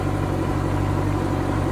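A motorcycle engine idles steadily while warming up, a close, even low rumble that holds without revving for the whole stretch.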